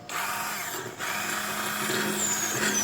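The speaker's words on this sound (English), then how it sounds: "Let's get the immersion blender running." An immersion blender whirs steadily in a pan of apple butter, a close, continuous motor drone with a brief dip partway through.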